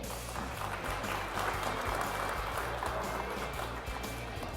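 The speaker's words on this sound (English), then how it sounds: "Big round of applause for Ricky Madole and Ronnie Madole." Crowd applause rings out for the winning father-and-son team at a cold-weather bass fishing tournament weigh-in on Lake Sam Rayburn, a steady dense clatter of clapping over a low rumbling background hum.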